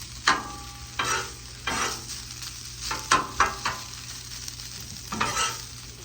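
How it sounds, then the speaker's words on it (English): Fried rice sizzles in a hot pan while spatulas scrape and stir it, with sharp intermittent clacks over a steady low frying hiss and no talking. "And just take the spatulas and up that rice some."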